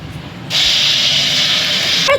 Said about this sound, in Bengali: এদিকে পটল ভাজা হচ্ছে